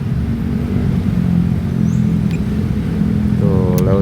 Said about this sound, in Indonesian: Dump truk masuk, putar balik lewat sini tuh